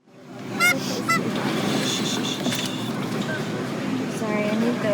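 Stressed geese or fowl honking repeatedly in a rescue setting, several calls overlapping against steady background noise with faint talk nearby.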